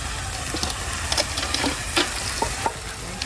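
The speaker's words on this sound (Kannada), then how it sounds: "ಇವಾಗ ಶುಂಠಿ ಬೆಳ್ಳುಳ್ಳಿ ಫ್ರೈ ಆಗಿದೆ ಒಂದು ಸ್ವಲ್ಪ." Ginger and garlic fry in a pan for a dry chicken dish outdoors, a steady sizzle broken by scraping stirs and clinks of the spatula close by.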